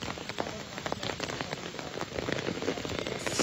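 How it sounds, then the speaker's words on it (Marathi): Heavy rain pours steadily onto surfaces in Rahata taluka, Ahilyanagar district, a dense, continuous hiss with close drops pattering throughout and no voices. "काल रात्रीपासून मुसळधार पाऊस सुरू आहे"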